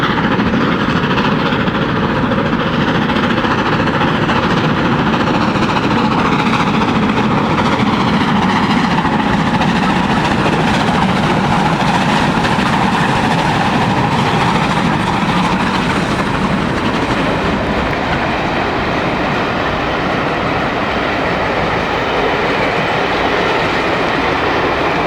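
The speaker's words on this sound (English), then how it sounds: "76079, piloting London, Midland and Scottish Railways Black 5460, number 45407, at the foot of Parkston Bank, heading the return Weymouth to Clapham Junction rail tour" Steam locomotive 76079 piloting LMS Black 5 No. 45407 at the foot of Parkstone Bank, heading a Weymouth to Clapham Junction rail tour: a loud, continuous roar of working engines and rolling carriages, sustained and close.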